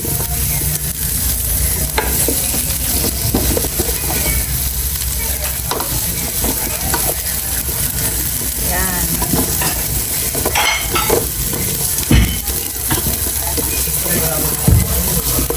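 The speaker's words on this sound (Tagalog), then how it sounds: "nagpainit na po ako ng mantika at magigisa na po ako ng bawang, sibuyas, at luya" Garlic, onion and ginger sautéing together in hot oil in a home kitchen, giving a loud continuous sizzle with spoon scrapes and clinks against the pan, while a voice talks faintly in the background now and then.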